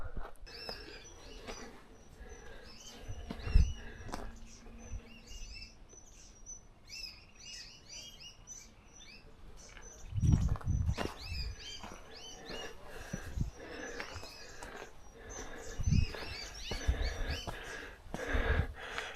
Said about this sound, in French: Oh, beau petit oiseau vert.